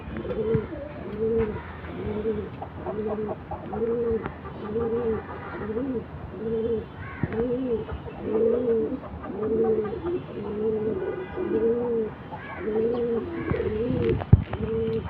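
Pigeons cooing in a steady repeating rhythm of soft, low throaty calls, close by, with faint chirps and a brief sharp knock near the end.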